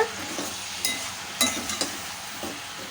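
Brinjal with salt and turmeric being stirred in a pan, a soft sizzle beneath a few sharp spoon scrapes and clinks against the metal, spaced irregularly over a few seconds.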